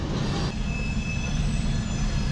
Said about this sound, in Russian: поезд едет в сторону Туркмении сейчас